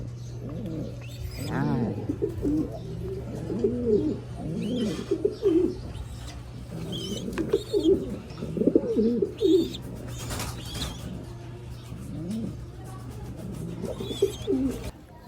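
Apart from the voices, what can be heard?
young loft birds cooing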